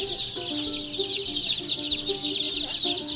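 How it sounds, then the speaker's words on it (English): Chicks and young chickens cluck and peep continuously at a local farm store in spring, a dense, bright chorus of chirps with lower clucks mixed in, fairly close and steady throughout. "these are baby chickens"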